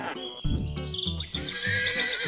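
A horse lets out a loud, close neigh that rises and trails off into a long whinny, with no other voices.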